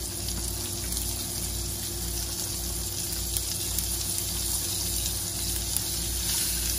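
Asparagus frying in heated butter and oil in a pan, a steady, close sizzle that continues throughout with no talk.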